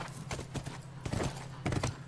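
Hooves clip-clop irregularly from a horse in The Last of Us, fairly quiet and close, with a low steady hum underneath and a few clustered steps rather than a steady gait.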